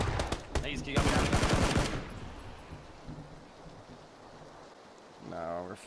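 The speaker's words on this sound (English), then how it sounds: "they're shooting at somebody" Automatic gunfire in the PUBG battle royale game, a loud burst of rapid shots at the start that fades into a noisy, washy ambience, with a short voice near the end.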